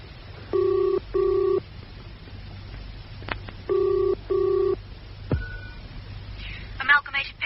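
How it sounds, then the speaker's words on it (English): A telephone rings in an audio drama with a British-style double ring, two pairs of electronic trills separated by a pause. A faint click follows and a voice comes on the line. "now, you make that phone call"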